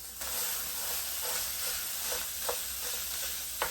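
Ground beef browning in a skillet, a continuous hissing sizzle broken by occasional louder scrapes and taps of a utensil stirring the meat.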